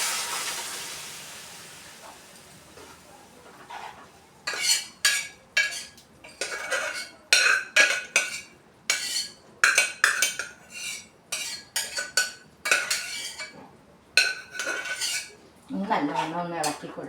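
A spoon scrapes and clanks repeatedly against a metal pot as a restaurant-style beef curry with masala gravy is stirred. The strokes come in a quick irregular rhythm, loud and close, after a quiet start.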